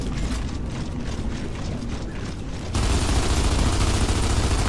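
Gunfire in the co-op shooter Gears of War 2: dense, continuous rattling bursts of automatic fire that grow louder and heavier about halfway through, with no talk over them.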